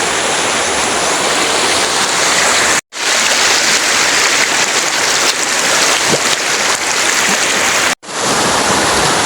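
A shallow stream flows beside a rice field, giving a loud, steady rush of water close by with no talk.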